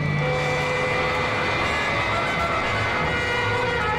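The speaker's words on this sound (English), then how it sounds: "the magnificent solar-powered vehicle begins a dizzying climb into the stratosphere" Audio-drama effect of a solar-powered robot plane climbing into the stratosphere, heard as a constant loud aircraft engine hum with steady tonal whine and no breaks, no talk.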